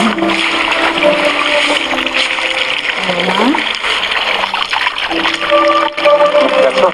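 Tap water runs and splashes steadily while someone washes their hands up to the forearms, a close gushing stream with a voice speaking briefly over it.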